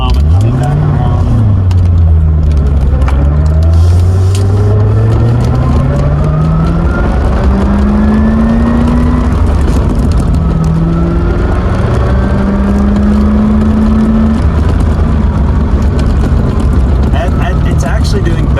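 Engine of a 1989 Corvette runs while the car drives, its tone rising and falling through gear changes as people talk over it.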